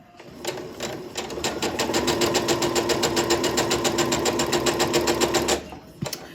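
A domestic sewing machine stitches a quilt block in one steady, fast burst of even mechanical pulses lasting about five seconds, close and clear, then slows and stops with a final click.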